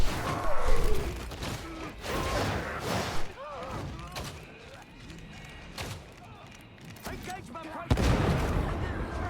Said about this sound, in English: Crack grenades really do their job